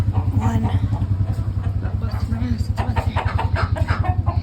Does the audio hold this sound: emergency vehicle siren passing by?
no